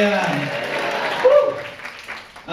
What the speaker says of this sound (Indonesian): Tepuk tangannya buat Tuhan dong.